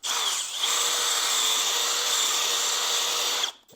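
A power drill bores out a hole in a camper's solar panel mount, whining loudly and steadily up close for about three seconds before stopping abruptly.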